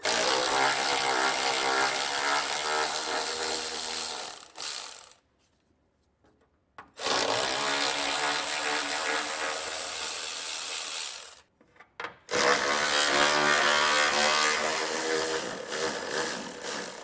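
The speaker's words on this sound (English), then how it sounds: "I'm going to grab our socket and get them pulled out." A power tool with a 13 mm socket backs out heat shield bolts on a 2015 Ford, whirring in long loud runs broken by two brief pauses, with no talking.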